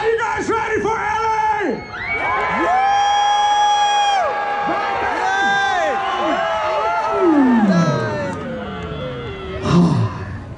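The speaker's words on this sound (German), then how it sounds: "Also schreit's raus, eure ganze Wut, eure Freude, was auch immer." A large crowd at the DropAndRoll bike show in Zürich screams and cheers, sustained whooping and yelling with rising and falling voices that swells near the end, loud and close.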